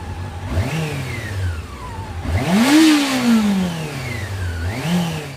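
A Honda CB400 four-cylinder motorcycle engine revs up and down several times, rising to a high, smooth wail before dropping back toward idle, close and loud.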